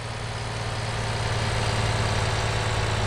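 A truck engine in the MotorTown driving game labors under load, a steady low rumbling drone that holds throughout as the revs sag.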